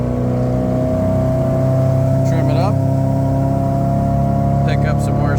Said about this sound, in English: once again, from a dead stop, full throttle